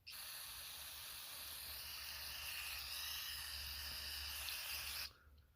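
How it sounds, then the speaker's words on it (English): Carb cleaner sprays from an aerosol can into an idle control valve: a continuous close hiss for about five seconds that stops abruptly, leaving quiet. "So you're going to be spraying down in here,"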